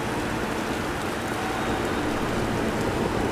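Steady, dense rain hiss in the MotoGP 20 motorcycle racing game, a constant broadband wash with no talking over it.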